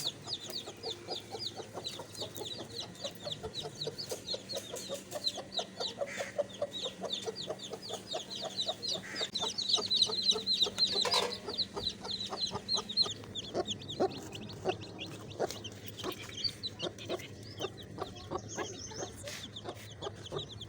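A hen and her chicks fill the air with continuous clucking and rapid high peeping, close and busy throughout, with occasional louder calls standing out from the steady chatter.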